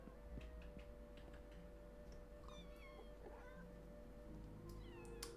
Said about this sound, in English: And a lot of cats.